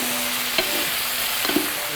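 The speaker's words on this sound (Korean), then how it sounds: "이렇게 마저 볶아주시면 돼요" Pork neck, green garlic and chili stir-frying in a pan, a steady close hiss of sizzling oil with a couple of brief scraping clinks from stirring.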